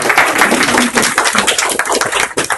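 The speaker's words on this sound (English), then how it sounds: "Everybody, a big round of applause to Tamar" Applause for Tamar at the opening of a photography exhibition, a loud, close, continuous patter of many hands clapping with little variation across the clip.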